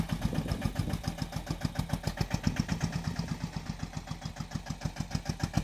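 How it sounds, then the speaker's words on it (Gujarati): A tractor engine working slowly in a groundnut field chugs in a steady, even rhythm of close, regular pulses, running alone without speech. "આવી રીતના ભાઈ ધીરે ધીરે ચાલુ કર્યું છે ટ્રેક્ટર"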